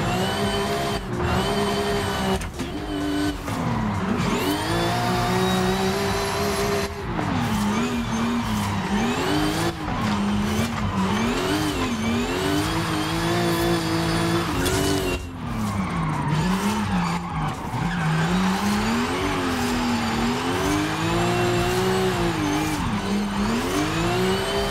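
A Toyota GR86 drifts downhill through smooth bends in Forza Horizon 5, its engine droning and rising and falling with each turn while the tyres squeal almost without a break, loud and up close for the whole stretch with no talking.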